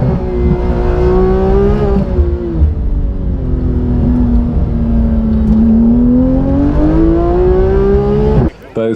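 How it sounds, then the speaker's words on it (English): Scramble motorbikes and sidecar outfits racing at the Pageant of Power 2016 event, with loud, sustained engine revving that rises and falls in pitch throughout, dropping out briefly near the end. "you'll see the scramble bikes twice a day having their races"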